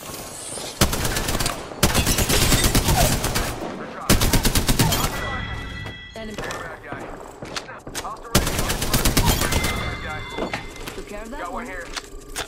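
Automatic weapons fire in the video game Apex Legends comes in several loud, rapid bursts a second or two long, separated by brief pauses and quieter stretches.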